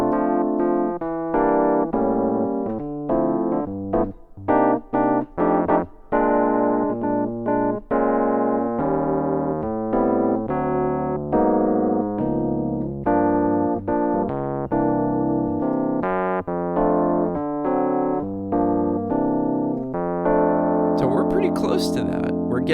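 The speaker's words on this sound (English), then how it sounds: "If I were to go ahead and play through one chorus with absolutely every chord that you would find" A full chorus of a jazz tune, played with every chord of the changes, sounds as a steady run of sustained, close-voiced chords, loud and continuous for the whole passage, with no talking over it.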